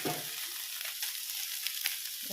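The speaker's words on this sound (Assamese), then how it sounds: "ইয়াত এতিয়া মই মাছখিনি ঢালি দিলোঁ" Fish poured into a pan of browned onions sizzles steadily and faintly up close, with a few light stirring clicks.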